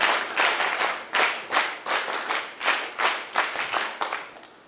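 An audience claps at an Independence Day (15 August) event featuring NCC students, in a series of strong, rhythmic bursts of about ten beats that fade toward the end, with no talking.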